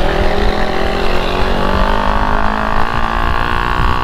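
A Husqvarna 401 motorcycle runs with its silencer removed. It gives a loud, close, raw engine drone that holds steady throughout, with no break or talking.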